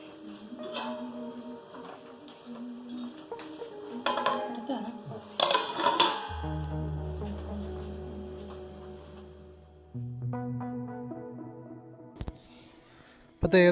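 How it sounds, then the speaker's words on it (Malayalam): Clay pot holding fish curry shaken, stirred and set on a gas stove, then covered; close clattering scrapes and knocks, a low ringing hum as it settles on the burner, and a sharp clunk near the end. "ആ ചട്ടി ഒന്ന് എടുത്തിട്ട് ചെറുതായിട്ട് ഇതുപോലെ ഒന്ന് ഷെയ്ക്ക് ചെയ്ത് ചെറുതായിട്ടൊന്ന് ഇളക്കിയതിന് ശേഷം അടുപ്പത്തേക്ക് വെക്കുക"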